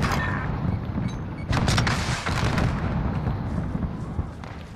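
Dense, rumbling exchange of in-game gunfire with cracks and heavy booms blending into a continuous loud wash, sharp shots standing out in places.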